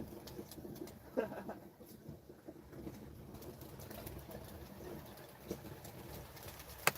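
Birds kept for competition cooing softly in the background, pigeon or dove-like, mixed with scattered clicks, rustles and faint room noise, fairly distant and low in level.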